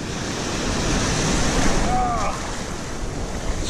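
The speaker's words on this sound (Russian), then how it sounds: "Черт, вы видели волны какие?" Heavy Pacific Ocean surf pounds a winter beach in a steady, loud wash of breaking waves, roughened by wind buffeting the microphone.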